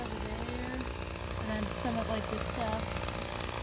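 String trimmers run outdoors in a steady, loud, buzzing drone that fills the whole stretch, with faint pitch wavering as engines rev, and a voice speaks briefly underneath.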